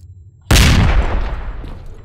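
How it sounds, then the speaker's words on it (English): A grenade in STALKER goes off with one sudden, loud, close boom after a quiet lull, its deep rumble decaying over the following second and a half. "So we have 2 grenades, so let's use one."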